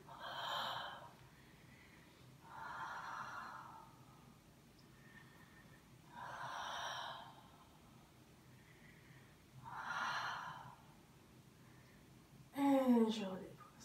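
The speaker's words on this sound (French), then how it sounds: "je vais au bout du souffle." During a breathing exercise, slow, drawn-out breaths rise and fall about four times in an even rhythm, close and soft. A voice briefly cuts in at the end.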